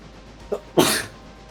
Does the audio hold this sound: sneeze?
yes